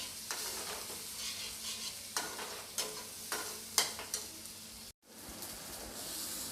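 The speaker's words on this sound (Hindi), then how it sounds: "अब मैं मसाले को तेल छूटने तक भूनूँगी मैं" Whole spices are roasted in oil in a kadhai for a bitter gourd (karela) recipe, with a steady sizzle broken by regular, close scraping stirring strokes and a brief dropout near the end.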